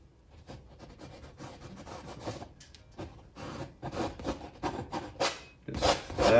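Paint is pushed in and scraped across canvas during a wet-on-wet mountain and river landscape, making dry, raspy rubbing strokes in short uneven bursts that grow louder toward the end.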